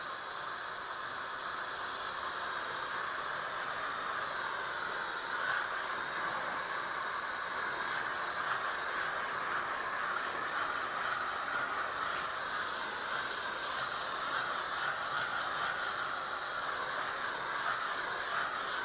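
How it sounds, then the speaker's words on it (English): Bissell Little Green steam cleaner releasing pressurized hot steam while cleaning a floor, a steady, loud broadband hiss that runs unbroken the whole time with slight pulsing surges partway through, and no voices. "It's a steam cleaner, so it's going to use basically pressurized, really hot steam"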